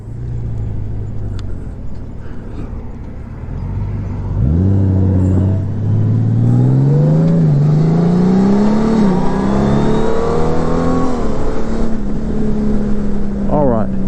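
A Honda Gold Wing DCT motorcycle in sport mode accelerates hard, its engine note climbing in pitch through several rising sweeps as the gearbox shifts, loud and close.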